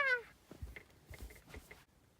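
A cat aboard a docked boat gives one short, faint meow at the start, followed by quiet soft rustling and breathy sounds nearby.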